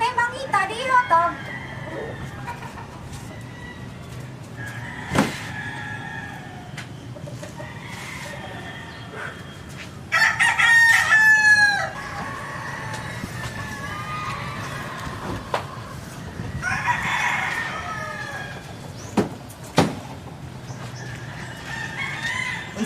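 A rooster lets out one loud, drawn-out crow midway through, with scattered clucks and short calls before and after over a steady low background hum.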